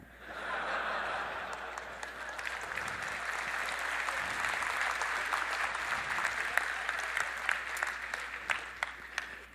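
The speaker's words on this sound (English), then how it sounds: "Why are they clapping?" A large audience claps at an Nvidia Computex keynote, building into dense applause with a few sharper individual claps and light laughter mixed in, continuing steadily through the end.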